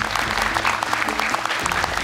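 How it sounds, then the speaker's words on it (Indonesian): Steady applause from a television studio audience, dense clapping filling the whole stretch at a moderate, even loudness with no voices. "Tepuk tangan dong untuk Bahira."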